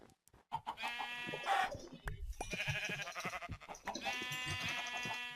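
Minecraft sheep bleat several times in quick succession, mixed with chicken clucks and other in-game sounds, fairly loud and close.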